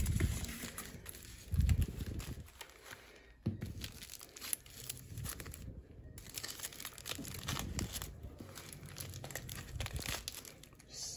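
Aluminium foil strips crinkle and crumple as they are handled for a chicken pot pie crust in a kitchen, with a steady run of close, soft crackling and a few brief louder rustles.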